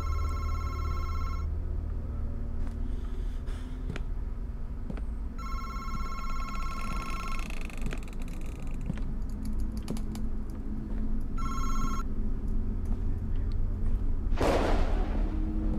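A telephone rings in a video game, sounding in three separate bursts over a steady low ambient hum with faint clicks.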